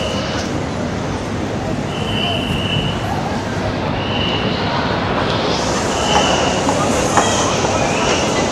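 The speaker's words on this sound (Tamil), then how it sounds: "Every half an hour train மேலே போயிட்டு வருது." A hill train in Penang rumbles steadily along its track with intermittent high wheel squeals, a continuous close mechanical roar throughout.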